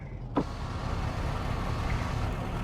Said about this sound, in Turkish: Şu camları azıcık aralayalım.